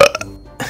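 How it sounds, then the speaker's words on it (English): A single loud, close burp with a few short guttural pulses followed by a brief rough tail, heard alone without any talking. "I belch a lot"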